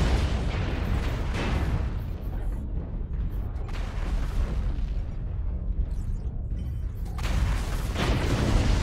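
An artillery strike in MechWarrior Online on Caustic Valley lands as a dense, continuous wash of rumbling explosions and booms, loud and unbroken across the whole stretch.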